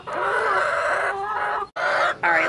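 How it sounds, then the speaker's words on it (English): Chickens, roosters among them, clucking and crowing loudly and continuously in the morning while being fed bread, a dense close chorus with a brief pause before it resumes. "See if I can talk over these birds. They are very noisy in the morning, especially when I give them bread."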